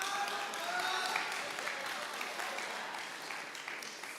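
A school audience at an end-of-year awards assembly claps and cheers after a joke, a broad wash of applause that starts strong and slowly fades, heard from a distance in a large hall.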